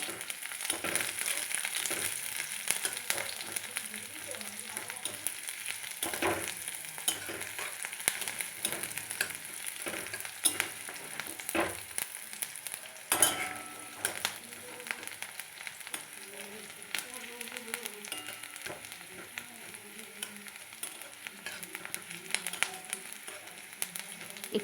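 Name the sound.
onion frying in pan with garlic and green chili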